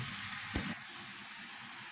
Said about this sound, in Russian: продолжаю обжаривать все это на сильном огне